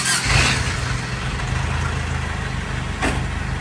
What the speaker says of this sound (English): It doesn't sound that bad with the factory exhaust, huh?